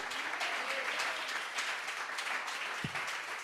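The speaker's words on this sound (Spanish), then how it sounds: "Yo de usted daría ese aplauso más grande" A church congregation applauds during a Spanish-language sermon, steady dense clapping from many hands that carries on without a break and sits at moderate distance.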